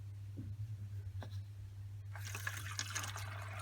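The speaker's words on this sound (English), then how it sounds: "So water is flowing to the filter now" Water rushes into a JBL Greenline e1501 aquarium canister filter after the lines are opened, a faint low hum at first, then a louder hissing, gurgling flow rising midway and continuing.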